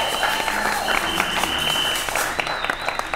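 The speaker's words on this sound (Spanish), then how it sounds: "pero te brindamos un fuerte aplauso, Luis." Applause from a studio audience greeting a contestant on a televised competition show, a dense sustained patter of clapping that stays steady and fairly loud for the whole stretch with no voices over it.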